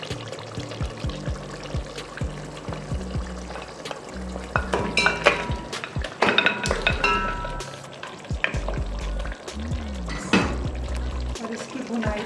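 Mutton trotters (paaye) are tipped into a pot of cooked-down onions, bringing a burst of sizzling, clattering bones against metal, liquid pouring and stirring scrapes, with bursts of loud frying in between.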